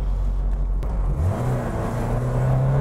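An old car's engine is pushed to full power, idling low before climbing into a rising rev that then holds as a steady, strained drone close by.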